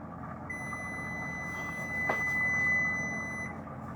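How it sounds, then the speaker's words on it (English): A kitchen timer beeps with a thin, steady electronic tone that holds for about three seconds, quiet against low room noise while crack candy chills in the freezer. "That is my timer."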